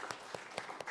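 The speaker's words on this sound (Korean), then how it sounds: "우리 박수를 한번 위로하겠습니다" Scattered, sparse clapping from a small church congregation honoring long-serving members, a few separate hand claps spaced out over a second rather than full applause.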